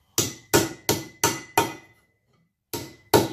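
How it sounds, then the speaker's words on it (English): A small hammer strikes the edge of an unannealed copper pipe to shape a flange, making seven sharp ringing metallic blows in a steady rhythm with a short pause before the last two, each decaying quickly. "I'm going to go to my smaller hammer."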